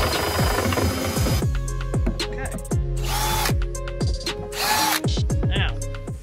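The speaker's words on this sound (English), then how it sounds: "what I'm gonna do is drill it where I know it's not hitting anything." A power drill bores into a homemade tugboat-style jetski hull, with repeated short bursts of whining motor revs and pauses between them, loud and close, a ratcheting click in places, with no talk over it.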